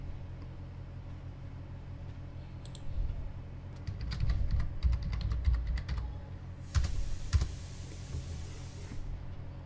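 Keystrokes on a computer keyboard while entering a file name into a Windows save dialog, a quick burst of clicks over a steady low rumble, with a second short flurry near the end.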